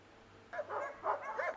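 Dogs bark in a kennel at an animal shelter in Venice, a short burst of several quick yappy barks at moderate distance over a low steady background hum.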